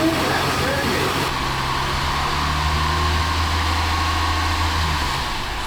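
A Toyota Land Cruiser engine, freshly rebuilt and on its first start, idles with a steady, low hum continuously throughout, with a faint higher whine early on and no speech.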